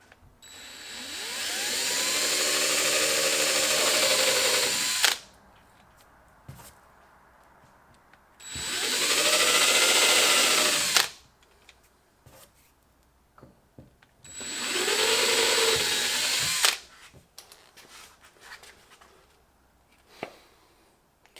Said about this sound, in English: Can't say I've ever drilled a hole in a perfectly good gas tank before.